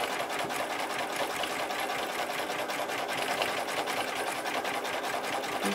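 Sewing machine stitching thread-scribbling embroidery in swirly free-motion lines, a fast, even, continuous rattling hum running close and steady throughout.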